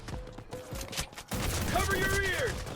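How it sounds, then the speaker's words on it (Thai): Rapid gunfire in the Delta Force shooter game, a few sharp bursts of shots at first followed by denser firing, with a voice talking over the sequence. "ยิงจุดเกิดมันด้วยครับ"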